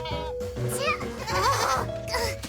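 Goats bleat in quick, wavering cries at close range, overlapping one another in a short noisy burst.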